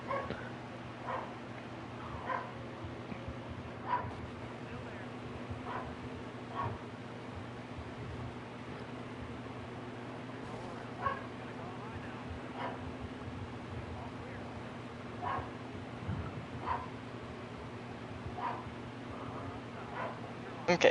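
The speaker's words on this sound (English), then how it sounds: "You guys might hear my dog barking all race." A dog barks indoors in short, faint yips spaced every second or two, heard under a steady hum of truck-racing game engines.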